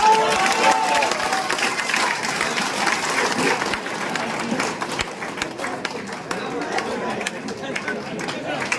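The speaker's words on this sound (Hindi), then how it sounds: "ताली बजा दीजिए" Audience clapping at a network marketing meeting, a dense burst of hand claps that is loudest at first and slowly thins, mixed with crowd chatter and voices.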